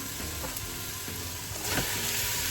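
Minced meat fries in olive oil with a steady close sizzle and light crackle, growing slightly louder as it is stirred, no voices over it.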